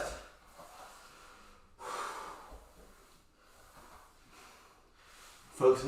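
Heavy breathing during a core conditioning workout, repeated forceful exhales and snort-like breaths in an uneven rhythm, close and moderately loud, ending with a sharper burst.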